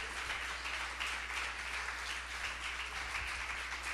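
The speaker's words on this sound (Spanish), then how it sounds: "Dele un aplauso al Señor por eso." A church congregation applauds, a faint, steady spatter of clapping that carries on evenly without voices.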